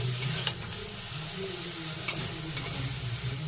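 Eggplant frying in a pan, a steady sizzle with a few sharp scrapes and clicks as it is stirred.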